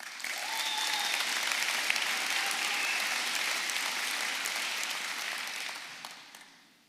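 Steady applause fills a graduation ceremony hall, a dense wash of many hands clapping at moderate distance, with faint voices mixed in, before it fades out at the end.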